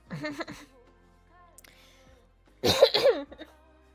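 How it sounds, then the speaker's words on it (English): Two rough coughs, one at the start and a louder one later, close to the listener with a quiet pause between. "Sometimes I just gotta cough."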